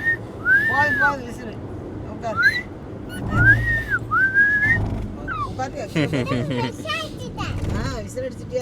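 A person whistles several short rising and falling notes at a baby shower gathering, with voices of adults and children talking around and between the whistles.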